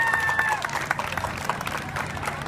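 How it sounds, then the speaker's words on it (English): An evening science carnival audience claps in a dense, brisk round of applause, with scattered cheers and voices mixed into the crowd noise. "Can we give a round of applause for all the partners?"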